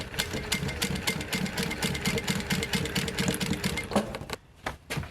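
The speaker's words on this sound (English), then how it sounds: "My machine couldn't go over this stitch." A sewing machine runs steadily as it top stitches a leather vest, its rapid needle rhythm chattering loudly and continuously for about four seconds before stopping abruptly.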